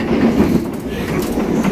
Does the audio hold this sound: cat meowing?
no